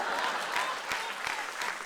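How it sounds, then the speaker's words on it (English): An improv comedy audience claps steadily for four performers, a dense, even wash of hands with no voices standing out. "Clap for these 4 people, guys."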